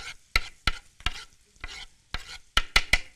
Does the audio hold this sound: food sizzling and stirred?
yes